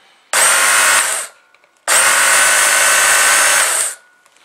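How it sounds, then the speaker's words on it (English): A Work Sharp Knife and Tool Sharpener motor runs in two close bursts, a brief one of about a second and a longer one of about two seconds, with a steady loud whir that cuts off sharply each time. "I'm going to let you guys hear how the motor sounds right quick."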